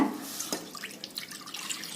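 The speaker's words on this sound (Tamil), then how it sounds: "இந்த பிரஷர் பேன்ல 1/2 லிட்டர் பால் ஊத்திக்கோங்க." Milk pours and splashes steadily into a metal pressure pan for a couple of seconds, close and fairly quiet.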